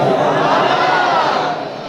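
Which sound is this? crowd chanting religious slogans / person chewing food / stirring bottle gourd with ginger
crowd chanting religious slogans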